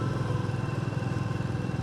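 A motorcycle rides along the sea coast on the Konkan road to Ganpatipule, its engine giving a steady, close, pulsing drone with no voices.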